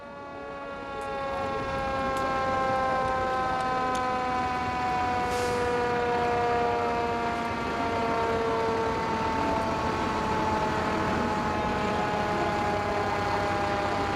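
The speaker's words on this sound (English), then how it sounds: "Come on, cut that siren loose." A loud wailing fire truck siren at a homecoming parade rises and holds with a slow pitch drift, continuous and close, sustained for the whole stretch with no voices.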